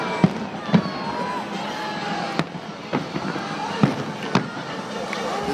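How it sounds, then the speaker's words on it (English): Fireworks explode over a Detroit crowd, sharp distant bangs repeating every second or so above a steady crowd murmur and voices talking nearby. "Everyone's enjoying and having a good time watching the fireworks."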